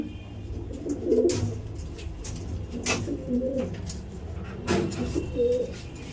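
Pigeons feeding coo in soft, low rolling phrases, several calls spaced across the clip with a steady background hum and occasional clicks.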